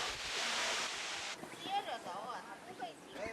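A waterfall pours off a rock cliff at Tianmen Mountain, Zhangjiajie, as a loud, steady rushing hiss for over a second, then cuts away to people talking over a quieter outdoor background.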